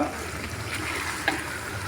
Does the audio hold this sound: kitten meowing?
no